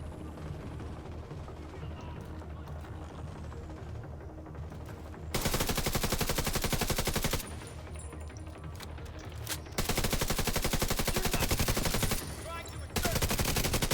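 Enemy gunfire in the video game The Division 2 comes as loud bursts of rapid automatic shots, with long stretches of near-continuous firing broken by short pauses.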